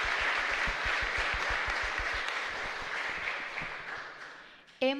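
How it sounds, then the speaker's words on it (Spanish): Congregation applause at a live Catholic Mass in a chapel in Luque, loud dense clapping with a low rhythmic thump underneath, gradually fading before a brief voice cuts in at the very end. "Un fuerte aplauso a todos nosotros."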